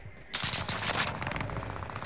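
Automatic gunfire in the video game Call of Duty: Modern Warfare, a rapid burst of shots following a quieter opening, loud and close throughout.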